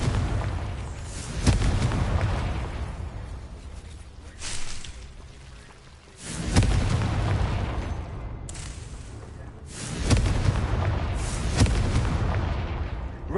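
Confringo fire-blast spell in Hogwarts Legacy, several heavy booming explosions at irregular intervals, each with a sharp onset and rumbling decay, loud and close with no talking.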